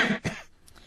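A single short, rough cough or throat-clear, close and fairly quiet, followed by near silence.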